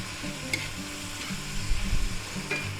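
Seasonings including onion powder and smoked paprika being stirred into a sizzling cheeseburger burrito filling of beef with hot peppers and onions; steady frying hiss with scraping spoon strokes, close and alone.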